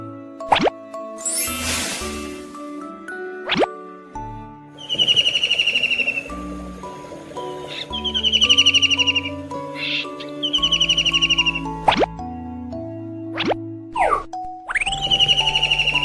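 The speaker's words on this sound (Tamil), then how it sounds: "மீன் கொத்தி பறவை கீச்சிடும்." A kingfisher chirps in short bursts of high, bright calls repeated several times, clear and close, amid scattered plopping and ringing effect sounds.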